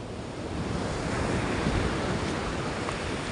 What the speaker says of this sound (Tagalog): Baka tayo maabutan ng alon.